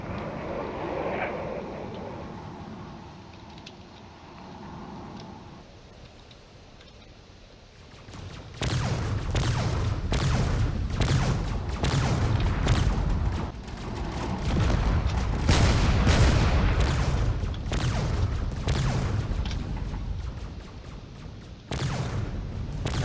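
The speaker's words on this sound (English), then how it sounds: "There we go, firing more torpedoes" Torpedoes fire and explosions erupt in a drone space-combat video game, with quieter muffled rumbling giving way to dense, loud bursts and booms that pile up continuously.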